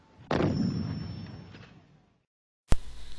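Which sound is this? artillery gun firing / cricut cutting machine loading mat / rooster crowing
artillery gun firing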